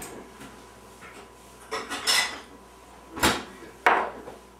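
A mixing bowl is pulled out in a kitchen: a few separate clattering knocks and clinks of dishes being moved, each a short sharp burst over quiet room tone, with no one speaking.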